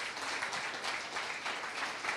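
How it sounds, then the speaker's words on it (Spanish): A church congregation claps for a member during a sermon on thoughts, beliefs and emotions, a steady, moderately soft wash of applause throughout. "Un aplauso a mi hermana."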